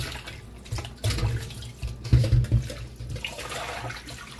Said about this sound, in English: I'm just washing them in just some cold water.